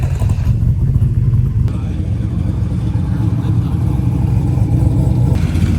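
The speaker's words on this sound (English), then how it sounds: "I got a lot of cars rolling in here." Cars rolling into a checkpoint parking lot at a drag-and-drive racing event give a steady low engine rumble with a brief rev swelling near the start, continuous and fairly loud throughout.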